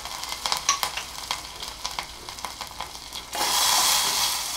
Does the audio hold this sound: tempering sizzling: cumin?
yes